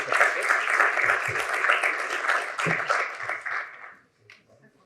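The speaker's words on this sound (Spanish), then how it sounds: "Un aplauso para ella." An audience at a hydrogen energy talk claps steadily to welcome a researcher, a dense burst of applause that fades out near the end, leaving a brief quiet pause.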